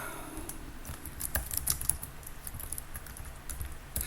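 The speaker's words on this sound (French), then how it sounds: "C'est juste une commande à taper sur mon PC." Typing a command on a PC keyboard, quick irregular clicking keystrokes at close range, busiest in the middle and tapering off toward the end.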